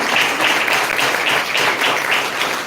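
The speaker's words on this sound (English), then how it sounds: "Can we have a loud applause for them?" Sustained applause from an audience at a women's achievers felicitation event, loud and dense with continuous clapping throughout, slight surges in intensity, no talk over it.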